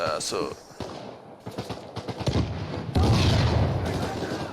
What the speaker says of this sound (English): So now that the shooting portion begins.